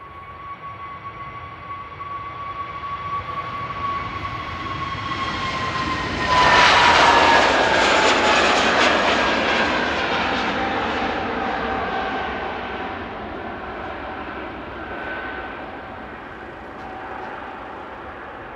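An Airbus neo jet airliner takes off at Amsterdam Airport, a loud broadband engine roar that swells sharply, peaks, then slowly fades as the aircraft climbs away. A steady whining engine tone runs through it, and no one speaks.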